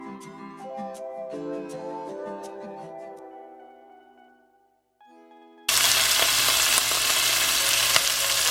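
Beef shanks brown in a pan. After a stretch of soft music fades out, a loud, dense sizzle abruptly takes over and holds steady to the end.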